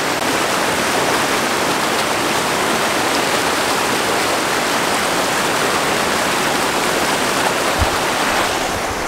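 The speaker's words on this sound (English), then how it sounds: "So, that right there is where the waterfall begins." An outdoor waterfall roars loud and close in a dense, unbroken rush of white-noise water for the whole stretch, steady throughout with no talking over it.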